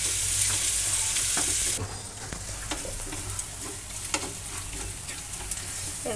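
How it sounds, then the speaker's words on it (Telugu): Ginger and garlic fry in a pan with a steady bright sizzle, loud at first and then settling, while a spoon stirs with light scraping taps close by. "ఈ అల్లం వెల్లిగడ్డ కూడా కొంచెం వేగాలి. మంచిగా పచ్చివాసన పోయేదాకా కలపాలి."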